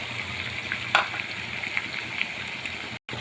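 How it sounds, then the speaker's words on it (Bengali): Spice paste frying with chicken in a pan, a steady close sizzle with light crackles and a stirring clatter, cut by a brief gap near the end. "সব ধরনের মশলা দিয়ে আমি মানে সেই পেস্টটা আমি ঢেলে দিয়েছি"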